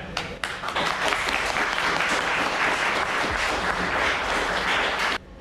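Sustained audience applause fills the air at the finish of a 100 km military march in South Karelia, a dense crowd of clapping hands holding steady for about five seconds before cutting off abruptly.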